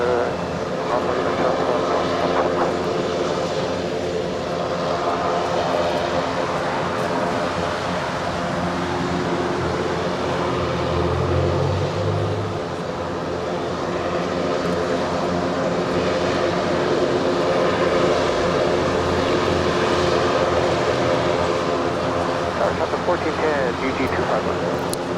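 A Qantas airliner arriving from Melbourne rumbles with a broad jet roar at Los Angeles International Airport, steady and moderately loud throughout, with a voice talking over it.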